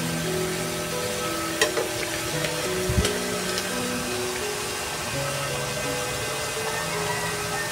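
Banana cue frying in hot oil with sugar while being stirred, a steady close sizzle with occasional clinks and scrapes of the utensil, no talking.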